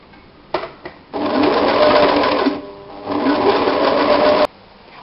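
A sewing machine zigzag-stitching a support bra runs in two loud, close bursts separated by a short pause, preceded by a few brief clicks of handling.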